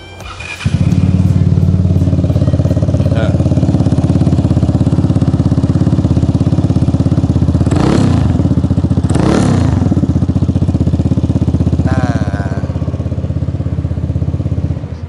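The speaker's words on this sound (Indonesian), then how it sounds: "Ini adalah knalpot Acra Profik." A Vespa Sprint scooter engine fitted with an Acra Profik exhaust idles close by with a steady, dense putter, two short revs rising in the middle, and a few light clicks at the start.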